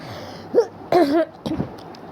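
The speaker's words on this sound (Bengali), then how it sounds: "আমার একটু ঠান্ডা লেগেছে, কাশি হচ্ছে" A few short throaty coughs and throat-clearing sounds from a woman with a cold, close and loud, spaced out with brief pauses between them.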